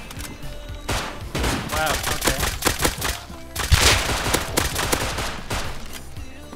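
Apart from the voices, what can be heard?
gunfire from the video game Rust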